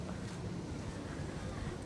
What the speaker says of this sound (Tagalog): ang lakas ng hangin no.